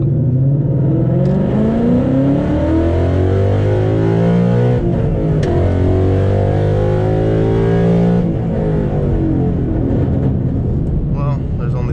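Car engine revving hard up a ramp, running with a stock clutch in a car fitted with a shifting mod, a loud continuous roar with rising and falling harmonics that swell and drop, close to the microphone, with speech mixed in.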